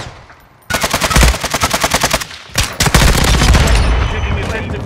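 Rapid automatic gunfire in Call of Duty Modern Warfare 2 (2022) Team Deathmatch multiplayer, loud close bursts of evenly spaced shots, pausing briefly before a second longer volley with heavy rumbling underneath.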